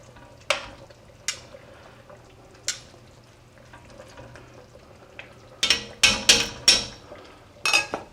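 Beef pieces dropped into a hot pan for a roast beef recipe, with a few sharp sizzling bursts and utensil clatter over a low steady hiss, growing busier and louder toward the end.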